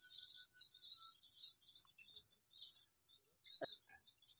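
Exotic finches in an aviary chirp and tweet in quick, high, overlapping calls, fairly quiet and close, with a sharper burst of calls near the end and no talking.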